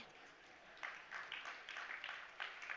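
An audience at a religious discourse breaks into scattered clapping, faint and distant, in a few uneven bursts over low room noise.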